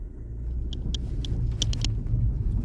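A 2021 Ford Fiesta ST, 200 hp, driving in normal mode, its engine rumbling steadily, with a few faint clicks above the low drone.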